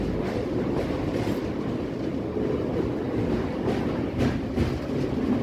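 A Howrah–Haldia galloping local train rumbles across the Kolaghat rail bridge over the Rupnarayan river, a continuous loud rolling clatter of wheels on track with a steady rhythm.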